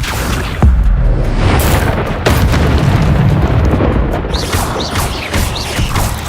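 Spells such as Incendio and Expelliarmus are cast in a Hogwarts video game, producing loud booming blasts, crashes and sharp bursts, with a few whooshing chirps near the end and no audible speech.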